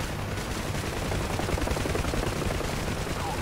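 Sustained, loud gunfire rattles in from below at a UH-1H Huey helicopter in the DCS flight game, dense and continuous with no speech over it.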